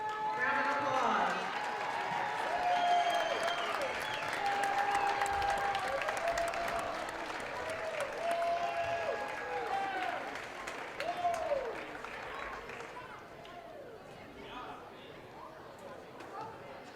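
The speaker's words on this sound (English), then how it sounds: "give them a round of applause" A crowd at a high school volleyball game applauds the Concordia volleyball team, with steady clapping and cheering filling the gym for most of the stretch before gradually thinning out, over a constant murmur of chatter.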